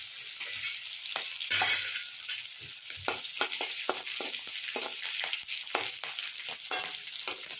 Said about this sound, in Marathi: आता कांदा टाकला कांदा भाजून घ्यायचा